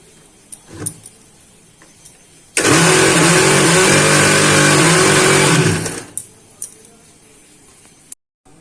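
A kitchen mixer grinder grinding coconut with water starts abruptly and runs as a loud, steady motor whine with rising harmonics for about three seconds. It then winds down, with quieter clattering before and after.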